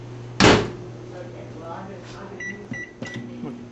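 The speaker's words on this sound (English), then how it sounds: "About 30 seconds in the microwave and it's ready to dice." A microwave oven heats frozen green peppers and mushrooms for salsa: a sharp door thump, a steady low hum, then a few short electronic beeps near the end.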